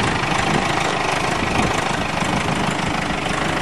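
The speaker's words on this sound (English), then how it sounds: "Strong old tractor, that's for sure." An old tractor engine partly stripped, with its mounts torn off, runs at idle, giving a loud, constant rough rumble with a dense knocking texture and no voices.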